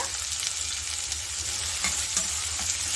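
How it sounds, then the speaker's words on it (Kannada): Onion frying in hot oil with mustard seeds and chili for a brinjal side dish, a steady close sizzle and crackle running throughout with faint stirring scrapes and no talking. "ಅದನ್ನು ಇದಕ್ಕೆ ಸೇರಿಸ್ಕೊಂಡು ಇದು ಗೋಲ್ಡನ್ ಬ್ರೌನ್ ಆಗೋವರೆಗೂ ಹುರ್ಕೊಳ್ಳೋಣ"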